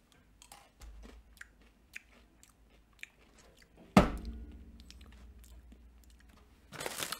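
Crunchy Cookie flavored M&M's being chewed close up, a series of small crisp bites and crunches, with a louder crunch burst near the middle and another at the end, no talking.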